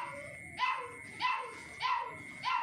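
A caged puppy cries in repeated high yelping whimpers, four evenly spaced cries at moderate distance with nothing else over them.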